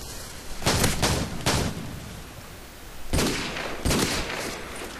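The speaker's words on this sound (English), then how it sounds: "You use RPD and you just shoot and spray." Call of Duty 4 gunfire from an RPD machine gun, sprayed in four loud, dense bursts of rapid shots separated by short pauses, with no talking.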